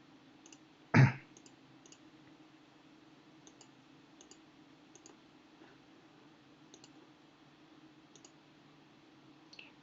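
Computer mouse clicks tick faintly and sparsely at irregular intervals, with one louder thump near the start against a quiet room hum.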